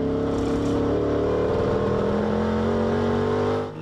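A 1964 TVR race car at Le Mans roars loudly and continuously from close by, its engine note shifting in pitch as it brakes and drops into second gear.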